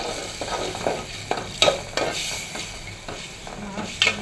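Spices and coriander being stir-fried in a pan, with a soft sizzle underneath and repeated scraping strokes of a spatula against the metal, close and moderately loud, with no voices.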